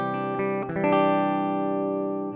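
Clean bypassed tone of a Gibson ES-335 electric guitar, run through a switched-off BOSS ST-2 pedal into a tube preamp: a few strummed chords ring out clearly and sustain, with no voices.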